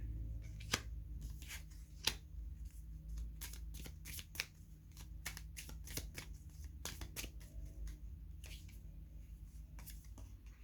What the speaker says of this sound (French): Je vais prendre des cartes pour le lien